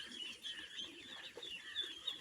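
A flock of farm-raised ducks eats poured feed beside water, giving off a dense, continuous chatter of soft clucking calls that stays close and steady throughout.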